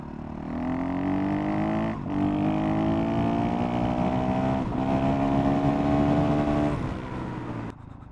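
A 60-horsepower motocross bike engine revs up and holds a rising buzzing drone, dropping briefly twice before climbing again, close and fairly loud, then cutting off near the end.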